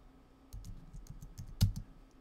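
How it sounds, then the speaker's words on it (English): Faint, scattered keystrokes on a computer keyboard as a plugin name is typed into a search box, with one slightly louder click in a brief burst. "And we want to type in"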